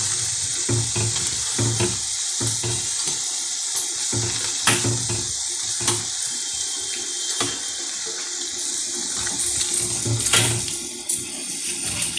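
Lentil rasbora fritters frying in a pan in a home kitchen, a steady close hiss and crackle of hot oil that runs through the whole stretch with small pops and bubbling bursts, no talking.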